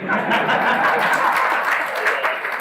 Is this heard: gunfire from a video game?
no